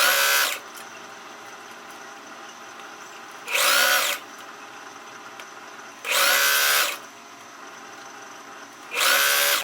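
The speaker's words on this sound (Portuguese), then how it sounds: "agora é só passar a costura na máquina" A sewing machine stitches an elastic seam on a blouse, running in three loud, close bursts of whirring stitching separated by quiet pauses.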